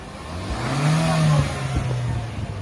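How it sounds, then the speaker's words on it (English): A car engine revs up and eases off under an angry driver, a close mid-pitched whine that swells to a peak and then drops to a lower hum, with no talk. "they just rev their engine for like no reason at all"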